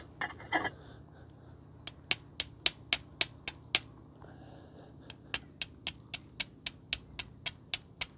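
Rapid series of sharp metallic strikes, steel against quartzite stone to make sparks, in a quick steady rhythm, close up, with a brief scrape at the start.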